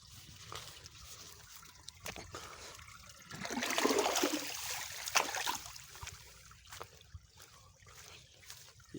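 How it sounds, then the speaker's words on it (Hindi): Irrigation water pours and trickles into field beds, swelling to a louder gushing rush midway before settling into a steady burble, with faint knocks and handling noises around it. "ये पानी खोल दिया हमने और इसको बंद कर देंगे अब।"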